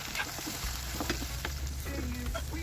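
Century tuna sautéing with onion and tomato in a pan, a steady close sizzle and crackle of frying that runs throughout, with a few soft stirring scrapes.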